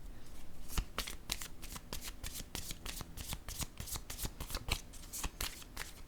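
Rapid, crisp riffle after riffle as a deck of tarot cards is shuffled for a reading, close and steady, with no speech.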